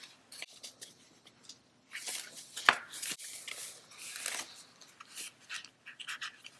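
Paper pieces slid into a paper envelope for a journal page, a series of close, quiet rustles and scrapes in irregular bursts, with no talk.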